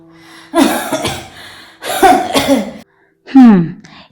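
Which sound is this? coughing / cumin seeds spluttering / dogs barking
coughing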